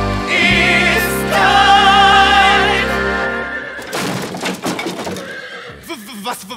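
A horse whinnies loudly in a long, wavering neigh during a live stage performance, followed by a few snorts and clattering sounds near the end.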